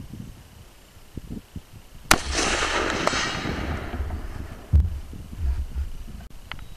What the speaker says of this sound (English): now I'm gonna be shooting a Hornady 150 grain full metal jacket, my hand load, 260 yards.